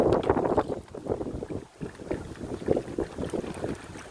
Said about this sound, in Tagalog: Lakas ka lang hangin, oh. Salubong sa hangin.